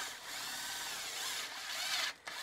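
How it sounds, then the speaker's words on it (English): Power drill boring a hole through a wooden tom drum shell from the inside, a steady whirring grind that dips briefly near the end before resuming, close and fairly quiet. "I'd drill from the inside out like that"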